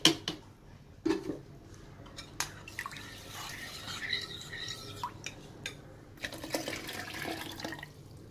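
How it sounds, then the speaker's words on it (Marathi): A glass of water poured into a bowl of leftover raw mango pulp while making kairi panha: an uneven, splashing trickle with a few drips, close and fairly quiet, running steadily for several seconds. "बाउलमध्येच आपण एक ग्लास पाणी टाकून घेऊ."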